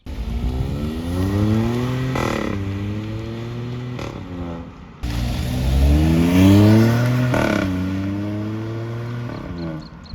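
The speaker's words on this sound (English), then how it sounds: "I'm gonna put in a clip of me driving over here, so you can hear good." A Hyundai i20 N Line with DCT pulls away and accelerates, its exhaust droning and rising through two gear pulls with a brief shift gap, loud and close with no voices.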